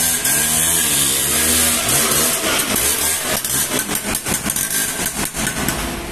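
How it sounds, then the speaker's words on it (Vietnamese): A small two-stroke Lambretta scooter engine idles loudly up close, its exhaust crackling and popping, then revs in uneven bursts. "Tiếng bô giòn tan nè."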